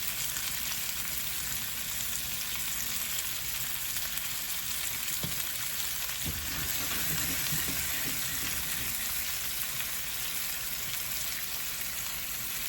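Chicken drumsticks crisp in a hot pan with a steady, close broadband sizzle of frying oil that holds at an even level throughout, with a few soft stirring knocks partway through.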